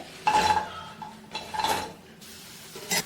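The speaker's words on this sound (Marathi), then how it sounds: "कढई व्यवस्थित गरम झालेली आहे त्याच्यामध्ये आपण हा कांदा चिरून घेतला होता तो टाकून द्यायचा आहे" Chopped onion tipped into a hot kadhai while cooking a Gudi Padwa festive thali, with two bursts of metallic clattering and scraping from a utensil against the pan, close and fairly loud.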